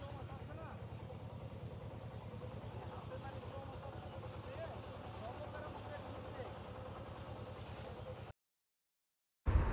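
Boat motoring along a river beside the Rooppur nuclear power plant site near Hardinge Bridge, a steady low engine drone with wind and water noise throughout, then a brief silence near the end.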